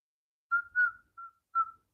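Four short whistled notes at a steady high pitch, clear and close, with brief gaps between them and no talking.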